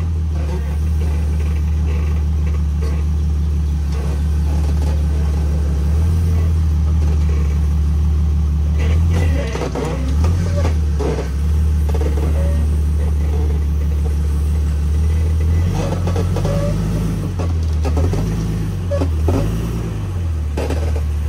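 Off-road vehicle engine on an AOAA trail, a steady low rumble with idling that swells into repeated revs toward the end, close and loud.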